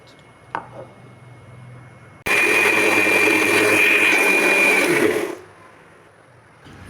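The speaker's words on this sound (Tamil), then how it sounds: "ஆற விட்டு மிக்ஸி ஜாரில் அரைச்சிட்டு வந்துடலாம்" A mixer grinder whirs loudly for about three seconds as it grinds cooled sautéed vegetables into chutney in a mixie jar, starting abruptly and winding down, after a small knock.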